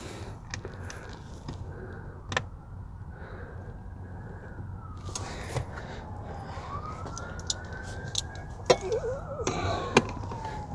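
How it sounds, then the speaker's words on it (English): Far-off wail of a passing emergency vehicle siren rising and falling faintly behind quiet clicks and clatter of hand tools while a Ford Flex dashboard is worked on. "A siren right now?"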